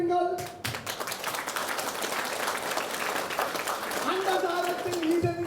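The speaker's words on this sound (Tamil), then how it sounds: "மாணவர்களை கைதட்டுங்கள்." A wedding audience claps for students, a steady, dense patter of many hands filling the space while a voice speaks over it at the start and end.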